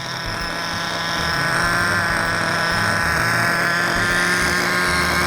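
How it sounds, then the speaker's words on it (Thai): A Schweizer 300 model helicopter's engine runs loud and close, a steady high-pitched buzzing whine that rises slightly and then holds, with no talk over it. "เร่งเครื่องนะครับรอรอรอบตอนนี้ผมก็รอรอบอยู่เนาะ"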